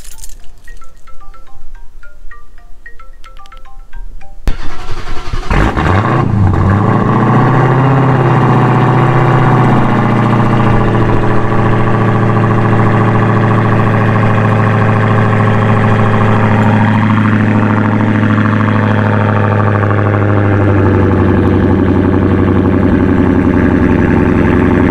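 A 1000 HP Dodge Hellcat tuned by Overkill Performance cold-starts after a few quiet electronic chimes, catching with a loud roar that flares up, then settles into a heavy, steady high idle, close and dominant throughout.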